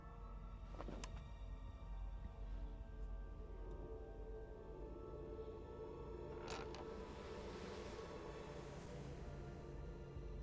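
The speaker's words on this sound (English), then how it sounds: "Oh, it's just the door. Yeah, that's a normal door sound." A door creaks in the video game Puzzle Agent 2 near an alley behind a hotel, its faint creaking and mechanical groans sounding over a steady low background hum with no talking.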